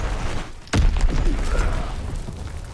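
A bomb explodes in a World War II video game: one sudden loud blast with a deep low thud, followed by a rumbling decay and scattered lighter bangs in the background.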